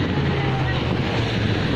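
A boat engine at sea near Chioggia, heard as a steady low drone mixed with wind buffeting the microphone and the wash of water, continuous and fairly loud throughout.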